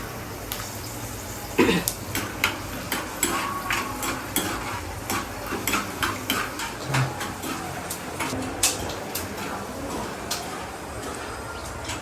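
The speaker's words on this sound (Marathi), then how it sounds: "आता मी शेंगदाणे भाजून घेते" Peanuts roast in a pan, with rhythmic scraping and clinking of a spoon stirring against the metal and a soft sizzle underneath, plus brief background voices.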